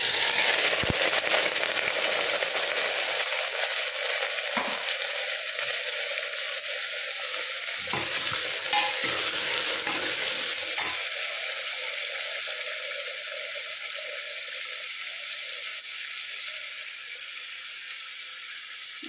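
Bottle gourd fries with cumin and green chilli in a pan, a loud hiss and sizzle that starts bright and slowly softens, with a few faint clinks partway through.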